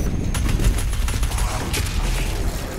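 Heavy machine gun fire in DOOM Eternal, a loud unbroken roar of rapid shots with deep booming impacts, continuous throughout and close up.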